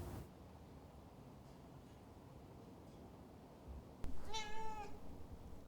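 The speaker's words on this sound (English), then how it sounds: "They are 3 years old, domestic short-haired cats." A three-year-old domestic short-haired cat lets out one clear meow near the end, close and fairly loud, after several seconds of quiet room hiss.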